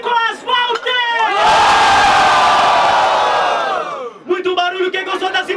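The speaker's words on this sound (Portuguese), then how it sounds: "Barulhos, barulhos pra quem gostou da rima do Nicolas Walter" Crowd at a Brazilian rap battle roars with loud cheering and shouting for several seconds, bracketed by an MC's amplified voice before and after.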